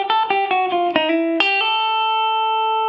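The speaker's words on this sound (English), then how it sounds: "I want to get that sort of poppy sound that you get from this sort of chicken picking style" Country chicken-picking lick on an electric guitar with a hammer-on: a quick run of snappy, bright plucked notes with a twangy effects-laden tone settles into one sustained ringing note, close and loud with no voices.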